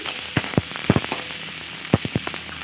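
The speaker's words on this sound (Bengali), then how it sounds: "এবার আবারও একটু নেড়ে নিচ্ছি।" Cauliflower muri ghonto gets stirred in a frying pan: a handful of sharp spoon taps against the pan over a faint, steady sizzle, close by.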